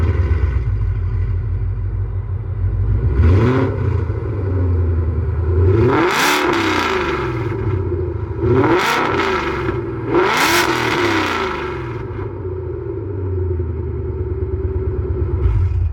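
A Ford Mustang GT with a Coyote V8 on E85, a 10-speed and a valved catback exhaust, idling loud and close with a deep burble, then blipped through several sharp revs that rise and fall back to idle.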